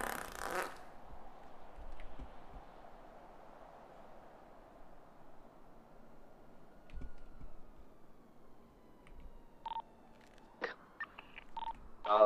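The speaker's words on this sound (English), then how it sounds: "did you hear the farting noise?" Fart noise in GTA 5 roleplay; a long, quiet, drawn-out flatulent buzz slides slowly in pitch, followed by a cluster of short sharp game sound effects and clicks near the end.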